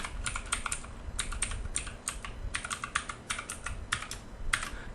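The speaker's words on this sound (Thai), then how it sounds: "ผมใส่ พาสเวิร์ดก่อนแล้วกันนะครับ" A password is typed on a computer keyboard in quick, close bursts of key clicks separated by short pauses, fairly quiet, with no voices.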